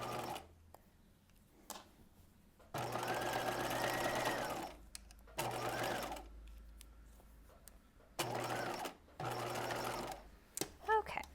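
A sewing machine runs a narrow zigzag stitch in several bursts of fast, even mechanical whirring, separated by pauses with quiet handling, with speech occurring between the runs.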